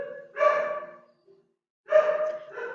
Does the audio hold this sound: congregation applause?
no